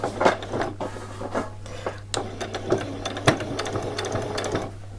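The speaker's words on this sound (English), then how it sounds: "Okay, and then I'm going to do a back stitch." A sewing machine runs a back stitch across a frilled top, its needle clattering in quick rhythmic bursts over a steady motor hum, close and fairly loud.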